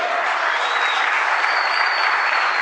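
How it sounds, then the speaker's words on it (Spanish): Church congregation applauding during a Spanish-language sermon, a dense, even wash of clapping that holds steady at full loudness for the whole stretch, with a faint tone running over it. "le dé un fuerte aplauso a nuestro Dios Todopoderoso"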